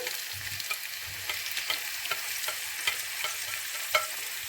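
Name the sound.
tomatoes frying in warm oil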